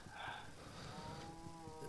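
A cow moos in the Minecraft video game, a single drawn-out, low lowing call that carries steadily for about two seconds at moderate volume.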